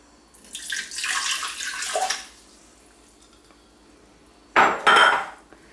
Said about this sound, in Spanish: y ahora ponemos en el vaso el agua